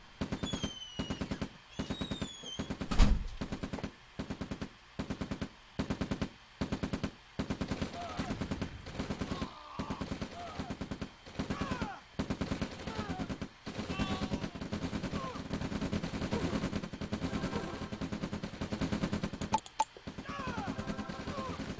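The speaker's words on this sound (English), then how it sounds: "We have an early infantry engagement and those double rangers coming out and just wiping out the infantry of I Overthought This." Infantry battle in the Command & Conquer Red Alert video game: rapid bursts of machine-gun fire in a steady staccato rhythm, with scattered single shots and brief electronic game tones over the busy clatter.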